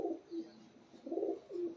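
Pigeons coo in low, rolling phrases, three soft bursts repeating in a steady rhythm, close by and fairly quiet with no talk over them; about ten to twelve birds kept in a loft.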